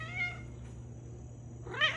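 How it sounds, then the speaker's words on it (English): A house cat meows twice, a short call at the start and a louder one near the end, close to the mic over a steady low hum, with no talking. "this is my cat"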